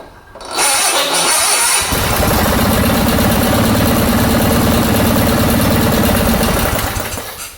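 Starter on a Sears Suburban garden tractor cranking the engine, a steady loud churning drone that runs unbroken for several seconds after a brief quiet start, close to the mic.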